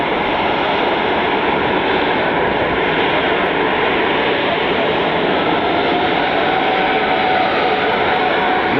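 Southwest airliner Freedom 1 taxis to runway 28 left for departure, its jet engines producing a loud, steady, broadband roar that holds evenly from start to finish.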